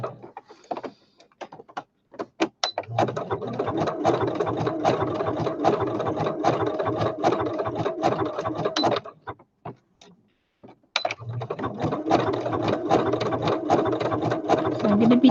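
A sewing machine runs an edge stitch in sustained bursts of rapid mechanical whirring, stopping briefly after a few clicks, then a longer run, a pause, and another run close by.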